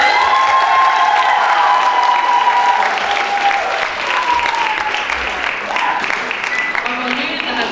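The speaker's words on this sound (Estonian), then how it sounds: "Kas teeme suure aplausi kõikidele esinejatele?" Sustained crowd applause for the performers at a school fashion show in Viljandi, dense and steady throughout, with faint voices and a thin tonal sound mixed in.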